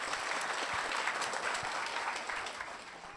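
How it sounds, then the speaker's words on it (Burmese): A room full of people bursts into steady applause at a business training session, dense clapping that holds evenly for a few seconds before easing slightly. "ဂုံပြူတဲ့အနေနဲ့လက်ခုပ်တန်လေးကြားချင်ပါတယ်"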